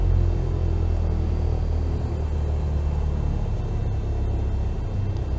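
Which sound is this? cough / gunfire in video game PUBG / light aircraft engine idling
light aircraft engine idling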